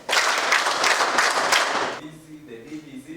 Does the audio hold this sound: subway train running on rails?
no